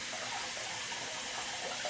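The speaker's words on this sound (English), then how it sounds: "I'm filling the sink with water again." Tap water runs steadily into a bathroom sink for a shave, a continuous close broadband rush at even loudness with no talking.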